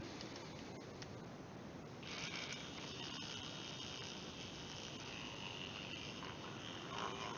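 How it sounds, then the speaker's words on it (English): A battery-powered whisk mixes a DIY vape liquid, its worn-down motor giving a steady mechanical whirring and ratcheting that grows busier after the first couple of seconds and runs on without talk. "let's whisk him up"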